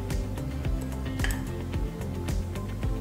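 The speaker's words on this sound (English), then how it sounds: "Now I'm going to mix this in." A utensil mixes butter into apple pie filling in a bowl, giving close, repeated clinks and scraping knocks in an uneven rhythm, loud and alone.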